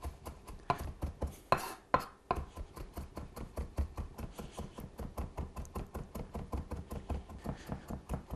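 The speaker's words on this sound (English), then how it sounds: "just make sure you chop it up for a good couple minutes until it's super fine" A knife chops watermelon finely by hand on a cutting board in a quick, steady rhythm of close, crisp thuds that runs without a break, with a couple of louder knocks early on and no talk.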